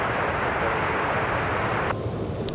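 A Southwest Airlines plane arriving from Phoenix, Arizona, flies in to land at LAX, a steady broadband jet roar heard outdoors, fairly loud and continuous, easing slightly toward the end.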